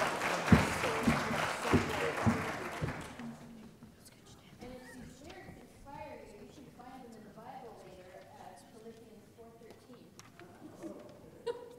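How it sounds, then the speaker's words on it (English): An audience at a family music night claps loudly for about three seconds after a song, then the clapping gives way to a voice speaking. "Let's give them a round of applause."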